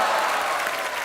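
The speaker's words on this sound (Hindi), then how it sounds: "ठोको ताली" On a televised comedy show, a studio audience applauds in a dense, steady wash of clapping that stays loud and even for the whole moment.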